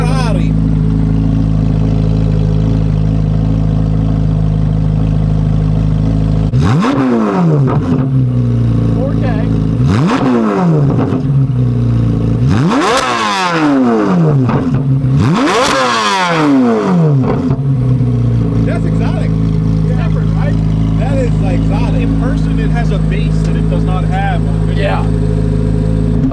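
Several loud revving bursts from a high-performance V8 engine, either a 2023 Corvette Z06 or a 2020 Shelby GT500, rising and falling sharply over a steady idle rumble, close by.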